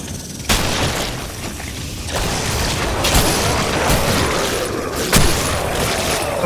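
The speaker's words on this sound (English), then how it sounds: "Grenade!" A grenade detonates in the co-op zombie shooter Killing Floor, a short booming blast that breaks through a constant dense wash of gunfire, clattering and game noise that fills the whole stretch.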